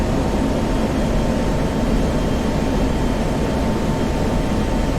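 A simulated F-16 Viper jet engine in DCS World holds a loud, constant roar as it climbs, a dense, unchanging engine rumble with a faint steady tone and no speech.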